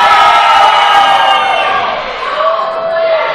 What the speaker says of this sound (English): he's getting some of the best crowd reaction